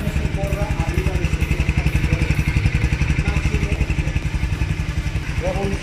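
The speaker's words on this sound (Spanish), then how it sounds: "hay que poner siempre la moto en neutral para que puedan encender." A 2021 Bajaj Pulsar NS 200 motorcycle idles up close with a rapid, even engine pulse and mechanical clatter, while someone talks over it.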